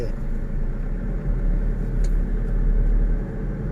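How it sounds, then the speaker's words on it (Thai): Manual pickup truck engine accelerating before a gear shift, a steady low rumble heard from inside the cab on a road, rising slightly and continuous under a faint background hum. "ตอนนี้เร่งความเร็วนิดนึงเพื่อเปลี่ยนเป็ นเกียร์สองอ่าเร่งอีก"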